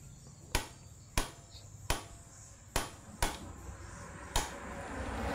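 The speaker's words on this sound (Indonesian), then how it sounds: "Nah ini kita kencengin, pakai obeng getok sedikit ya, jangan terlalu kenceng banget." An impact screwdriver is struck with a hammer to tighten a screw on the camshaft of a Suzuki Spin 125 motorcycle engine, giving six sharp, separate knocks at uneven intervals over quiet background noise.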